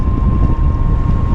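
A strong headwind roars against the microphone while riding a Sur Ron electric bike at about 55 mph, a loud, steady buffeting rush with a faint motor whine underneath and no talking.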